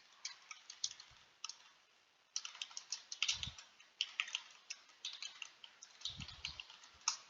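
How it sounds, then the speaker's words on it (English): Typing on a computer keyboard during a typing speed test, a run of quick, irregular key clicks in bursts with short pauses, fairly close and alone, with a few heavier thumps. "I'll just type something random."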